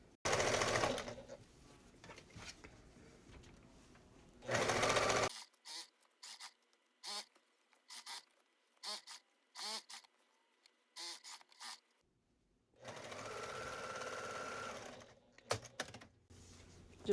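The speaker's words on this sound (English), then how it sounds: "And we're going to stitch all the way around." A sewing machine runs in steady loud bursts stitching around the foam-padded liner of a pumpkin trick-or-treat bag, with short pauses and a rapid clicking stretch in the middle before another long continuous run.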